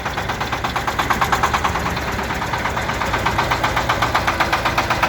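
A small Shifeng SF350L tractor diesel engine chugs steadily nearby with a rapid, regular knocking rhythm, loud and continuous throughout.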